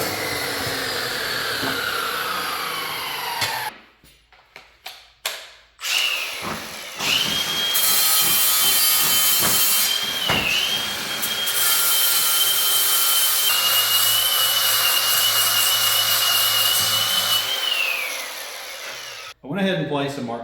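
A power saw cuts through a steel truck drive shaft in a loud, sustained whine near the mic. It comes after brief starts and stops and holds steady for over ten seconds, then cuts off.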